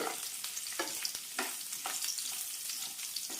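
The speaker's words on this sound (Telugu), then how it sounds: "ఇవి మంచిగా వేగేదాకా వేపుకుందాం" Lentils fry in hot tempering oil for a chutney with a continuous close sizzle, broken by soft stirring scrapes at a regular pace.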